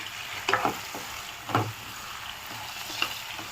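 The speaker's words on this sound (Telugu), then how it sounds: "ఇప్పుడు ఇందులోకి కట్ చేసి పెట్టుకున్న పచ్చిమిర్చి, కొంచెం పుదీనా అండ్ కరివేపాకు వేసుకుందాము." Green chillies, mint and curry leaves fry in a pan while being stirred, with a steady background sizzle and three louder scraping bursts of the spoon, at about half a second, one and a half seconds and three seconds.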